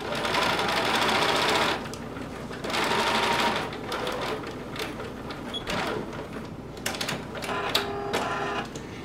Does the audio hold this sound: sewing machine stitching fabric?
yes